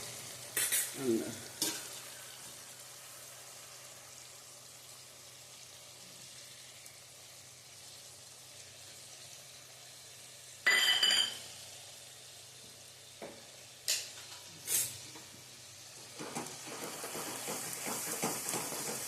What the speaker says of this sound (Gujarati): આપણો મસાલો મસ્ત બફાઈ જાય ત્યાં સુધી આપણે આને સાતળવાનું છે.